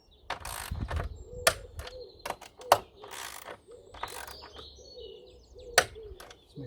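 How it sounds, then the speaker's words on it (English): A torque wrench ratchets on the aluminium air filter housing of an Audi S8 D4, giving a handful of sharp, close mechanical clicks spaced irregularly over a quiet background. "Torque wrench."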